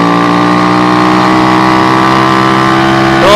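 An SND ZS 190 motorcycle engine pulling up a steep incline, a loud, steady droning hum that holds a constant pitch at close range, rising slightly in level right at the end.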